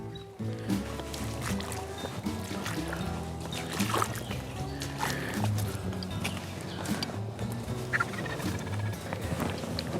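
A wild turkey gobbles repeatedly in the woods amid a busy, cluttered background of other outdoor sounds, the calls fairly clear and steady throughout.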